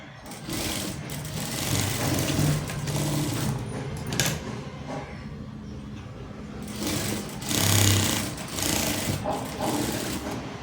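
Sewing machine stitching a blouse, a dense, continuous mechanical whirr of rapid needle strokes running almost throughout with brief slowdowns and pauses, close and loud, no talking.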